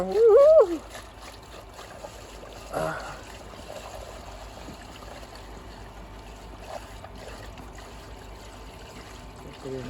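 Diesel pours from a 50-litre drum into a tractor's tank as a faint, steady trickle. A brief voice is heard at the start and again shortly after.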